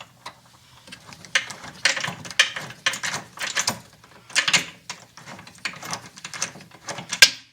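Screws being driven to fasten a part into the fender well of a Mercedes R107, heard as close, irregular bursts of ratcheting, rattling clicks with short pauses between them and no talking.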